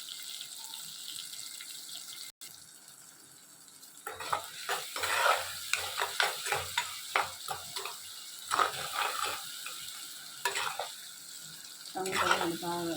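Tomatoes sizzle and soften in a pan while a spoon scrapes and stirs them in irregular clattering strokes, close by, starting after a quiet opening.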